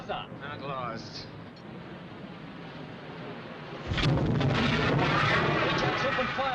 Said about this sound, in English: We're opening fire, sir.